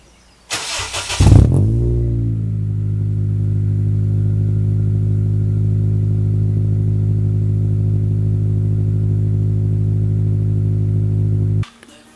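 A car in a home garage starts up with a brief crank, then settles into a steady, loud idle that hums for about ten seconds before the engine shuts off abruptly.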